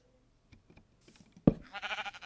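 Minecraft sheep bleating in a video game, a single loud wavering bleat following a few soft clicks and footsteps, with no talk over it.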